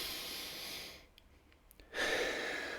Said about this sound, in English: just like taking a deep breath